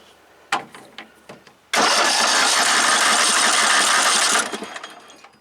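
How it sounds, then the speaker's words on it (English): A Craftsman 13.5 hp riding mower, just fitted with a repaired starter solenoid, gives a few short cranking clicks, then its engine catches and runs loud and rough for about three seconds before cutting out. "And now it starts, but needs some carburetor work."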